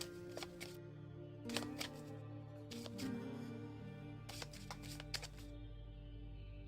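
A deck of cards is riffle-shuffled several times at a tabletop game session, each shuffle a quick burst of crisp flutters ending in a soft tap, with low background hum between bursts.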